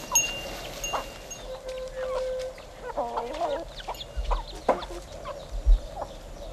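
A black hen clucks in a busy farmyard, soft irregular clucks and a few higher calls scattered among other fowl noises, with scattered thumps and background rustle.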